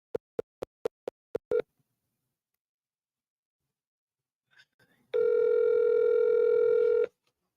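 A phone call is placed: a quick run of six sharp dialing beeps, a pause of near-silence, then a loud steady electronic tone that holds for about two seconds before cutting off.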